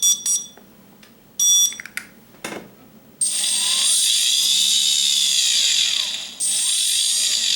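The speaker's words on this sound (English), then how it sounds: "This should rotate in clockwise direction. We will check whether it is rotating in clockwise or not." A quadcopter motor is tested on the bench. After a few short beeps, it spins up into a loud, high-pitched whine that holds steady, dips briefly, then resumes, close by with no talking.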